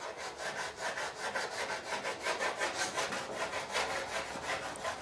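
Hand file scraping down a hardened paint ridge, a steady run of rhythmic raspy strokes back and forth, close and moderately loud with no talking.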